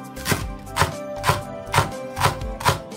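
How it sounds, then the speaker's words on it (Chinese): A knife chops a bunch of washed Chinese chives on a cutting board in a home kitchen, six even, close thuds about half a second apart. "切成韭菜碎，"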